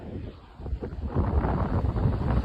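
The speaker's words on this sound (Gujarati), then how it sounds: "આપણે ઉભા રહીએ તો કેટલો પવન લાગે" Strong wind roars and buffets the microphone in a steady, loud rumble during a bicycle journey, rising and staying heavy through the second half with no voices.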